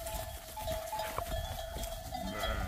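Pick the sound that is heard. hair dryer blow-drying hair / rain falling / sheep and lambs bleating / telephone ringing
sheep and lambs bleating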